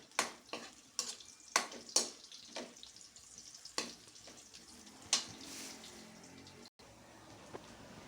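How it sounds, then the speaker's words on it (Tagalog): Dried anchovies (dilis) are stir-fried in a pan, with sharp scraping and clacking strokes of the utensil at an irregular rhythm over a faint, low sizzle. "Medyo sasangag-sangag lang muna natin yung kanyang dilis."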